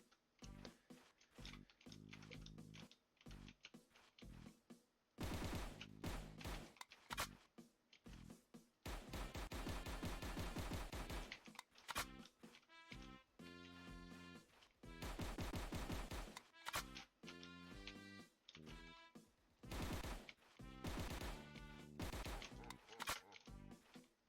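Gunfire in a Unity 1v1 shooter video game, with short volleys and rapid bursts of shots in an irregular rhythm, separated by brief gaps and fairly clear.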